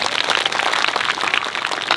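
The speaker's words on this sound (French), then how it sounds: "vous pouvez faire un tonnerre d'applaudissements pour vos enseignants" Audience applause for the teachers at a school project event, a dense, continuous wash of many hands clapping, loud and steady with no pauses over its short span.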